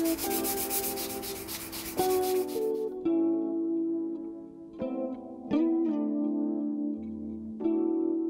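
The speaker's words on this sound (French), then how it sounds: "2 heures plus tard, je peux attaquer le ponçage." Hand sanding of body filler on a Volvo 480 Turbo makes a close, continuous scratchy rubbing sound, with stroke-like surges and a few sharp clicks, and no one talking.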